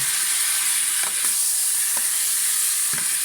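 Chicken adobo with garlic sizzles steadily in a hot pan, with a few distinct scrapes and clacks of stirring over the continuous frying hiss.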